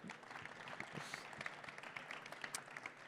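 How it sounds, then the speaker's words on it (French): An audience applauds at an award ceremony, quiet scattered clapping with a busy, irregular patter of hand claps heard at a distance for a few seconds. "Alors applaudissons, oui, applaudissons-les."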